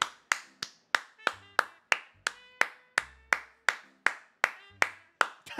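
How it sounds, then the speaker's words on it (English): Sharp, loud hand claps ring out one after another in a quick, even rhythm, about seventeen crisp slaps in under six seconds, each decaying fast in a quiet room. "that was like the craziest fucking clap I've ever done in my entire fucking life"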